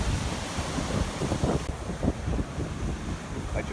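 Big ocean waves break and surge near cliffs, a steady loud roar of churning surf with wind buffeting the microphone close by throughout.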